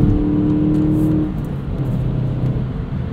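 Engine of a 2016 Volkswagen GTI SE with a six-speed manual, heard from the cabin while driving: a steady, loud low hum with a tonal note that drops as revs fall, then steady road rumble.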